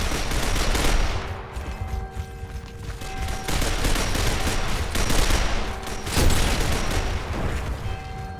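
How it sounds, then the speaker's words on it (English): Boomshot grenade launcher fire and other weapons in a Gears of War Ultimate Edition team deathmatch: dense, continuous loud gunfire and blasts that barely let up, with a few heavier impacts standing out. "They got boom shots."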